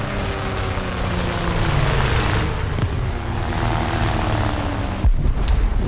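A propeller airplane in a War Thunder ground battle drones steadily and loudly from start to finish, with a sharp thud shortly before the end.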